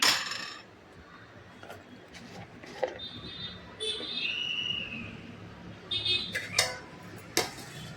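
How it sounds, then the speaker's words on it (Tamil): A metal plate clinks and scrapes onto a pot of boiling eggplant sambar with a few separate, sharp metallic knocks against a quiet background. "தட்டு போட்டு மூடிட்டு"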